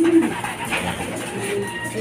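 A racing pigeon being readied for a race coos softly while it eats, low murmuring calls close by over faint background noise.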